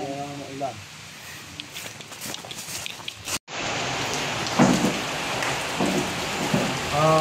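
Steady rain patters on surfaces throughout, with a short cut partway through, after which the downpour sounds heavier and closer.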